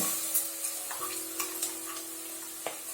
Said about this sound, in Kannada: ಚೆನ್ನಾಗಿ ಫ್ರೈ ಆಗಬೇಕು. ಈರುಳ್ಳಿ ಫ್ರೈ ಆಯಿತು